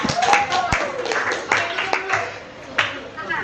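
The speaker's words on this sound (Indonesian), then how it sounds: "Tepuk tangan." Scattered hand claps from a small group after a classroom group presentation, a few sharp uneven claps mixed with nearby voices talking over them.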